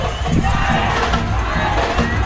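Crowd noise from fans in the stands of the municipal stadium in Lauro de Freitas, Bahia, at a women's football final, a dense, loud roar of cheering and shouting with chant-like rhythms throughout.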